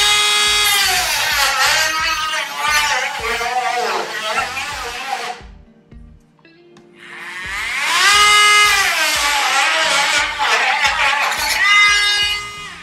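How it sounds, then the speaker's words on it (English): A Dremel rotary tool with a filing bit whines loudly while enlarging a hole for a temporary sound wall stand, its pitch wavering under load, cutting out briefly before spinning up again. "now I'm going to use this little Dremel filing bit just to make the hole big enough to sit on top of"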